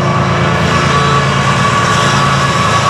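FEC 204 locomotive engine running close by as the train passes, a steady loud diesel drone with a constant low rumble and no talk.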